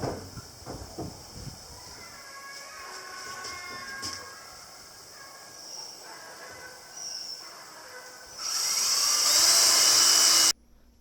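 A power drill pre-drills a screw hole near the middle of a 2x4 while a sliding porch gate is being built. After a quiet stretch of background hum, a loud, high, steady whirring burst runs for about two seconds, then stops abruptly.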